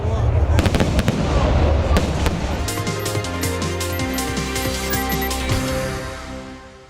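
Fireworks from a City Day display in Nizhnekamsk crackle and pop in rapid bursts over festive music, loud and continuous before fading toward the end.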